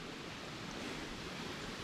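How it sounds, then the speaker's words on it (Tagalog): Lively water rushes over rocks in a river area, a dense, even, broadband roar that stays constant and moderately loud for the whole short stretch, with no voices. "buhay na buhay yung tubig dito"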